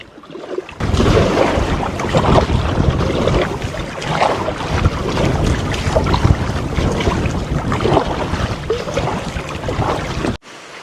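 Steady wind blowing across the Colorado River near the Hoover Dam, a loud, continuous roaring rush buffeting the microphone for about ten seconds before cutting off abruptly, with no voices.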